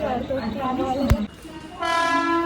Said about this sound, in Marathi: तिसरी ट्रेन आलेली आहे.